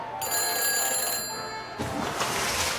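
A phone helmet in the Back to the Future video game rings after a number is dialed: steady electronic ringing tones fill the first part, then give way to a brighter, noisier burst of game sound.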